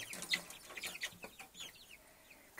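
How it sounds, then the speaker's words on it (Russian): Hens, including black ones that lay green eggs, and a rooster cluck quietly in a run, with several short clucks and squawks scattered through the moment before it fades to near silence. "Наверное, курица, а вот там, наверное, петух."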